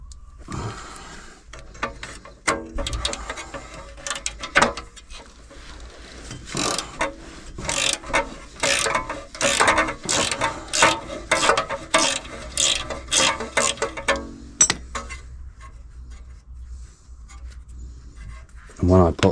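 A wrench tightens a nut on the lower arm of a Range Rover L322 suspension, producing quick repeated ratchet clicks in bursts, close and fairly clear, with some pauses and light handling noise.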